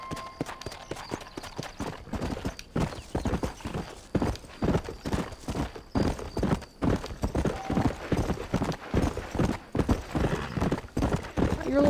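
Horse hooves clip-clop steadily in the Red Dead Redemption video game, a close, even rhythm of hoofbeats running throughout with occasional snorting and a voice talking over the top.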